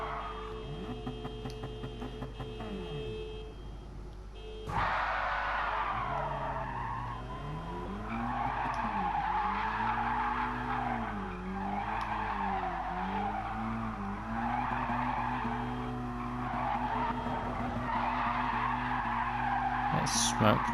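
Mazda NR-A tyres squeal and skid in a racing video game, a sustained screech with rising and falling pitch over a steady engine drone, loud and continuous after a sharp onset a few seconds in.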